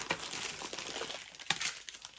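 Packaging from a lost postal parcel crinkles and rustles as it is opened, a continuous close crackling with one sharper crunch midway.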